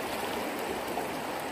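Steady broadband rush of river water flowing during a river crossing, a slippery, not very strong current, continuous and close with no voices.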